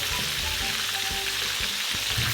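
Tomatoes hit hot oil for a street-style Peshawari charsi chicken karahi and crackle in a steady, close sizzle, with a few soft knocks of stirring throughout.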